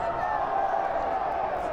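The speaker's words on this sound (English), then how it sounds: "You can hear the roar from the crowd." A crowd at a college soccer match roars in a dense, sustained wall of cheering, steady and loud throughout the brief moment.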